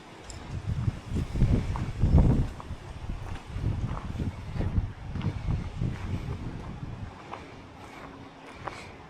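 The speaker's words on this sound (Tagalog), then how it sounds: "Malakas yung hangin." Strong wind buffets the microphone outdoors at Waterton in Canada in heavy, low gusts, rumbling loudly throughout with a faint rustle behind it.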